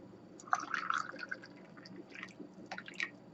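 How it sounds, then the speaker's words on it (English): Liquid poured into a container at a lab bench during a chemical synthesis, quiet close drips and splashes in irregular bursts with soft trickling, no talking. "So I'm going to pour this in."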